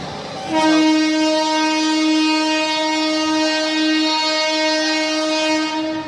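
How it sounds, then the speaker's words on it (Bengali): A long, loud, steady train horn blares at Sealdah station after a brief moment of ambient rumble, holding one harmonic tone for several seconds before fading slightly. "দেখলে বন্ধুরা ট্রেনের হর্ন, ট্রেন সিগন্যাল দিচ্ছে"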